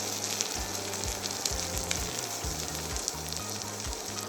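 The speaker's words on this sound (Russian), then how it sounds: "Смешиваем на среднем огне, хорошо обжариваем, постоянно помешиваем, чтобы не пригорело." Thick tomato paste sizzles and fries steadily in a hot pan over medium heat while being stirred, a continuous close crackle with low rhythmic thumps underneath.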